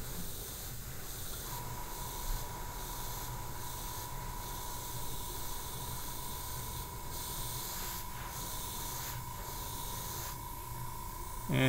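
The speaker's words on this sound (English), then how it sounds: "you'll see that I'm priming this" Steady airbrush hiss as primer is sprayed onto a hobby model, continuous and close for the whole stretch, with a faint thin tone running underneath and no speech.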